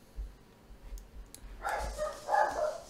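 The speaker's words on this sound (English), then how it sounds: "oh, dogs are going crazy." Dogs bark a few times at moderate distance. Short, muffled barks cluster in the second half over quiet room background.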